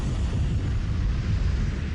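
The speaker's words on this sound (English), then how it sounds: "it found an ignition source and triggered a massive explosion" Massive gas explosion at an outdoor industrial site, a sustained low, heavy rumbling roar that holds at a steady loudness for the full two seconds, with no voices.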